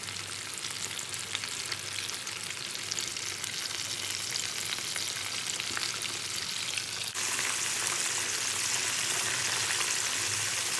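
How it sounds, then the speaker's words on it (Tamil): KFC-style chicken pieces deep frying in hot oil, giving a dense, steady sizzle and crackle that runs without a break and grows slightly brighter and louder partway through. No one speaks. "பாருங்கள் நல்லா பொரிஞ்சு வந்துட்டுங்க"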